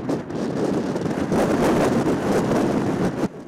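A blizzard blows in the mountains at La Rânca, Romania, with gusts up to 70 km/h: loud, continuous roaring wind buffeting the microphone, surging and easing slightly throughout.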